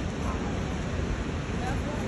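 The Saraswati river rushes in a steady, broadband wash of flowing water, blended with wind buffeting the microphone.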